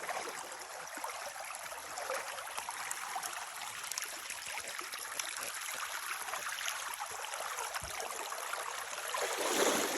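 Steady rushing and trickling of creek water over a seam, a continuous even wash of flow with no voices.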